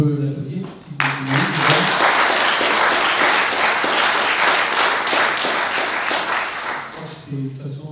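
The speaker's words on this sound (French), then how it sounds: "je crois qu'on peut l'applaudir." An audience at an evening gathering breaks into loud, sustained applause for about six seconds after brief speech, then the clapping thins out as a voice returns.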